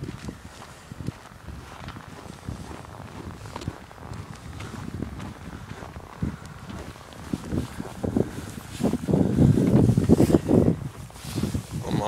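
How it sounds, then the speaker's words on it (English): Cold wind gusting outdoors at a controlled barn burn in upstate New York near the I-87 border, buffeting the microphone in steady low rumbles that swell louder toward the end, with faint footsteps and movement. "It's really cold with the wind."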